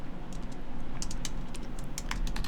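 Typing on a computer keyboard: a close run of light, irregular key clicks over a quiet room hum, with no talking.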